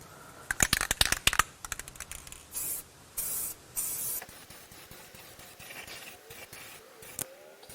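Pastel yellow spray paint hissing from an aerosol can onto the body panel of a Porsche 996 Carrera in a garage, in several separate bursts of a second or so after some clicking and handling noises.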